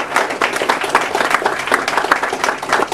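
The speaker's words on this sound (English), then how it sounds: "So a round of applause for that." Audience applause marking a professor's 80th birthday at a talk on his life in music and education: a lively, fairly loud spread of many hands clapping with rapid individual claps audible, steady throughout.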